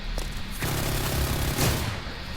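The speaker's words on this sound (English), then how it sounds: "I get shot at and I drop here." Gunfire in a chaotic video game battle: dense, continuous bursts of rapid shots and booms fill the whole stretch at steady loudness.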